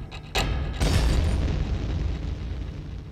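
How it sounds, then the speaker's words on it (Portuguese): An explosion in the game Minit, heard as a couple of sharp bursts followed by a loud, rumbling boom that slowly decays. "Me matei e explodiu o bagulho"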